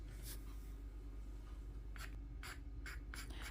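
A pointed tool lightly scratches across watercolor paper to make grass and weeds in a loose landscape, giving a few short dry scraping strokes that stand alone against a low steady hum.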